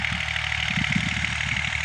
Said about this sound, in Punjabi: ਤੁਸੀਂ ਵੇਖ ਰਹੇ ਨੇ ਟਰੈਕਟਰ ਹਲ ਚਲਾ ਰਹੇ ਨੇ।